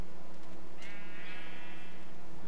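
A bleating animal call from the blocky game world of Minecraft with the Feed The Beast modpack, a single drawn-out bray rising and fading over a faint background hum.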